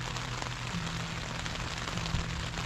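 Rain falls on a tent at night during an Easter hike on the Cumbria Way, a steady, even hiss of drops that fills the whole moment with no pauses and no voices.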